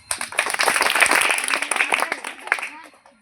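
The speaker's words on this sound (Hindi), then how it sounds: "तो आप लोग ताली बजाइएगा" At a Montessori school's annual ceremony, an audience claps in a dense burst for about three seconds, with voices mixed in, before the clapping thins out.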